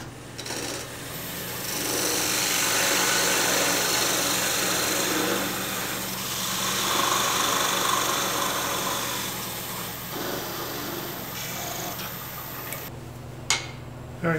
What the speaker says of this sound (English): I'll start hollowing this little beautiful Madrone Hollow Form.